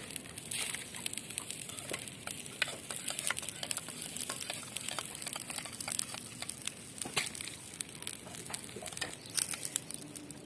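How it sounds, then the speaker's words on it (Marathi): Salt is stirred into hot oil for popcorn, giving a steady low sizzle broken by frequent sharp scraping and tapping clicks of the stirring spoon, close and fairly quiet, with no talking. "मीठ आम्ही तेलामध्येच टाकून घेणार आहोत"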